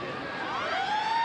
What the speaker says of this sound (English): as the halftime siren sounds